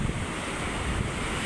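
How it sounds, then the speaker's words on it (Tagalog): Waves washing on a seaside shore with strong wind buffeting the microphone, a constant loud rushing wash over a short span with no talk. "magpapahangin muna dito sa tabing dagat."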